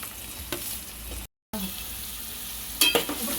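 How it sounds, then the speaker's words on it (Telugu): Chopped onions and green chillies frying in a pan for egg bhurji, a close, steady sizzle with a brief gap and a few clattering stirs near the end. "ఉల్లిపాయలు పచ్చిమిరపకాయలు వేసుకుందాం."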